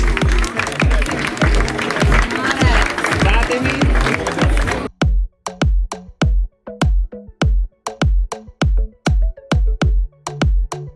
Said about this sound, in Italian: Facciamo un forte applauso a tutte le Miss che hanno partecipato stasera